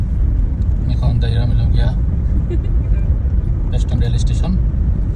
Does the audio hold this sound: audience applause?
no